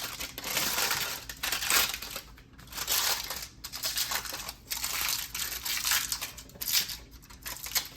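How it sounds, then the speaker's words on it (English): Parchment paper is peeled away from a freshly baked sourdough loaf, giving close, continuous crinkling and crackling in uneven bursts with brief pauses. "I'm gonna try to carefully pull off the parchment paper so it can cool all around."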